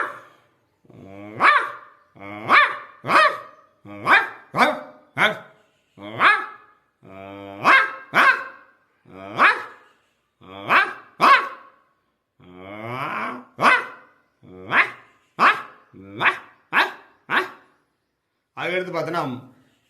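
A man mimics a dog's barking with his voice, giving a long series of sharp, close barks and yips spaced in irregular bursts, some with a growly edge.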